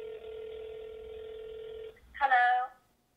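A telephone tone holds steady for about two seconds, then a short, louder burst of phone-line sound follows before it cuts to silence.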